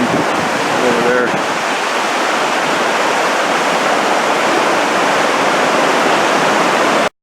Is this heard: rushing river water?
yes